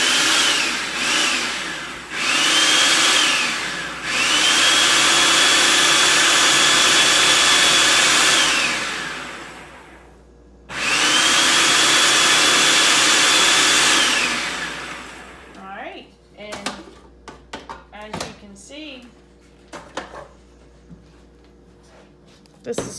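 A FoodSaver vacuum sealer pumping air out of a jar lid over dehydrated chives and sage, two long loud steady whirring runs of several seconds each, stopping abruptly, with faint handling clicks and brief talk afterward.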